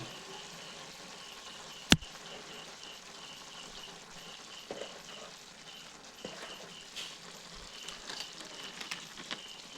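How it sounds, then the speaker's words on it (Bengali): Chicken pieces sizzling and sautéing in a pan with ginger-garlic paste and salt, a steady close crackle with a sharp clink near the start and small stirring knocks throughout. "মাংসটি 2 মিনিট কষিয়ে নেওয়ার পর এরপর দিয়ে দিচ্ছি এখানে আদা আর রসুন বাটা"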